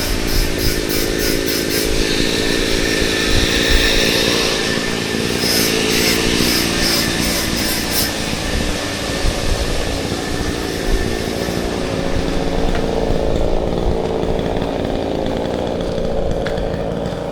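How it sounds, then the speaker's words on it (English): A chainsaw drones steadily in the background, a continuous buzzing whine amid outdoor ambience on a beachwalk in Sanur, with no one speaking. "Oh God, there's another chainsaw or something."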